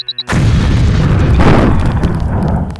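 A LAM mine detonates in Deus Ex demolitions training after a few faint beeps, a loud close boom that rolls into a long rumbling blast with a second surge midway.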